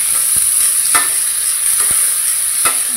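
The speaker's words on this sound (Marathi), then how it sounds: "थोडंसंच तेल टाकलं त्यामध्ये आणि इथे सर्व डाळ मी टाकते" Steady hiss of lentils frying in hot oil, with a few sharp scraping clicks of a spoon stirring the pan, no voices.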